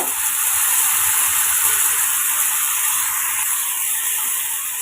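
Curry leaf paste and tomato sauté in hot oil, giving a steady, close sizzling hiss that holds even and loud throughout with no talking.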